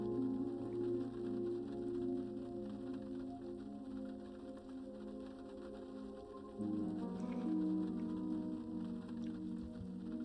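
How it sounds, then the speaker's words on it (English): Rain on a window from the visual novel game Witch on the Holy Night, a soft, continuous patter beneath sustained background music, steady and quiet throughout. "The sound of the rain on the window faded into nothingness"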